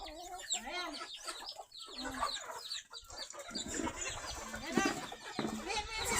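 Chickens and chicks clucking and peeping on a rural farm during feeding, a busy continuous chorus of bird calls close by, with faint talk mixed in.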